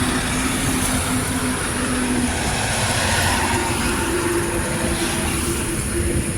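A Medinipur to Howrah local train passes close by with a loud, continuous rumble of wheels on rail, thin squealing tones riding over the roar throughout.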